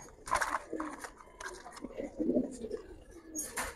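A Giribaz pigeon coos softly nearby in a few short, throaty bursts, with faint rustling and quiet background voices.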